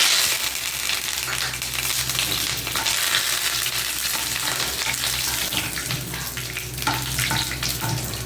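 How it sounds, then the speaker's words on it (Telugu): Urad dal, mustard seeds, cumin and dried red chillies crackle and sizzle in hot oil for a tempering, with a steady, fairly close frying hiss and occasional stirring scrapes throughout, no talk over it. "దీనికి మినపప్పు, ఆవాలు, జీలకర్ర, ఎండుమిరపకాయలు వేసాను తాలింపు"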